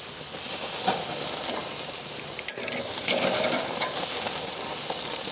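Pork chops sizzle on a hot grill just after being flipped, a steady broadband hiss running throughout with brief crackles and a sharp pop midway, heard close with no talking.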